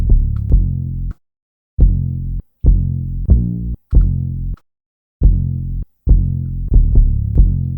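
Heavy 808 bass notes driven into clipping with harmonic distortion in the Reason mixer, a loud, buzzy low throb played in short repeated hits with gaps of silence between phrases.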